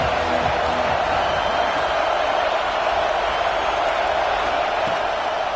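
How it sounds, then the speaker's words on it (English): Football stadium crowd roaring early in the game, a continuous loud wash of massed cheering and noise with no distinct breaks, voices blended into one broad roar. "This crowd bringing the energy and noise early."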